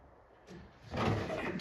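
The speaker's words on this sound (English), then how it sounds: "So basically I need to just open the coin door" The metal coin door of a Pole Position arcade cabinet being restored swings open with a quiet click followed by a brief scraping rattle, close by and faint.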